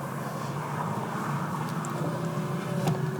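A VW Golf IV Cabriolet running on LPG drives along, its engine giving a steady, moderate hum from inside the car, with a brief click near the end and no talk.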